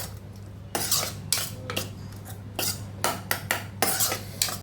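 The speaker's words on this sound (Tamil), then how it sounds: "அழுத்தி அழுத்தி விடுங்க அவ்வளோதான் நல்லா மிக்ஸ் பண்ணி விட்டா" A metal spoon presses and mixes masala chickpea sundal in a bowl, with about a dozen close, rhythmic scraping and clinking strokes against the vessel and short pauses between them. No one speaks.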